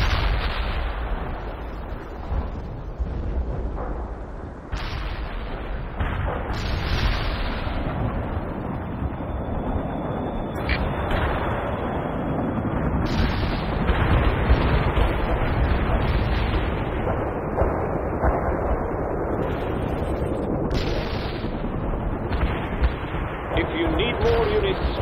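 Incoming artillery barrages and explosions in the World in Conflict strategy game, heavy rumbling blasts and booms rolling continuously with wind-like roar, loud and sustained.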